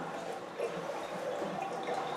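Water drains from a Kohler whirlpool tub with a soft, steady trickling and gurgling close by, fairly quiet and without talk.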